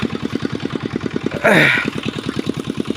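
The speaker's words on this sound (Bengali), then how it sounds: "ওই যে মেশিন আর এই যে পাইপ পাইপ দিয়ে পানি নিচ্ছি" A small irrigation water pump engine chugs steadily in a fast, even rhythm nearby, drawing water through a pipe for an onion field, with a brief whistling squeal over it partway through.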